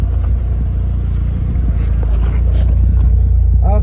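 A Mitsubishi Starquest turbo runs with an automatic transmission while driving, giving a loud, steady low engine drone with road and wind rumble inside the cabin and a brief whine near the end.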